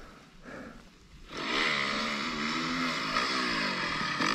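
A dirt bike engine rises to a loud, steady high-revving drone in second gear at full throttle, holding near and sustained for several seconds after a quieter start.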